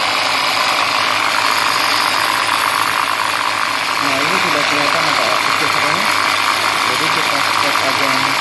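A machine grinding ginger into powder runs loud and steady with a continuous rattling, whirring mechanical drone throughout.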